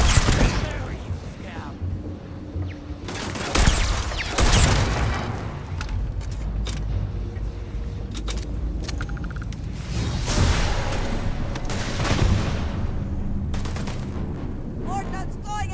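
Automated turrets fire during a gunfight in Starfield, with bursts of gunshots and booming impacts that come and go through a busy combat mix, and voices shouting over them.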